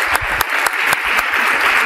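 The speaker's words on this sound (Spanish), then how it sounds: "pido un fuerte aplauso para Nicolás Márquez" An audience at a book presentation for Nicolás Márquez's "Perón, el fetiche de las masas" applauds loudly and steadily for about two seconds, a dense wash of clapping with a few sharper accents and no voices.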